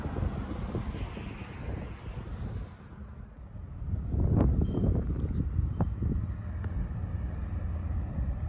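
Strong gusty wind roars and buffets the microphone with low rumbling in Independence, California, easing briefly before surging again, with no one talking.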